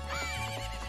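A horse in the video game Zelda Majora's Mask gives a short, bright neigh, a single close whinny lasting under a second over a low background drone.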